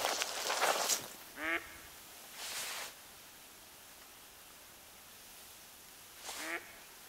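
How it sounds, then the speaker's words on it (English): A duck in the hunting game theHunter: Call of the Wild gives two short raspy quacks spaced a few seconds apart, mixed with soft breathy whooshes, over a quiet outdoor game ambience. "There's a level 3 duck, guys, right there."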